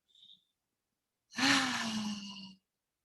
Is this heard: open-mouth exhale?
yes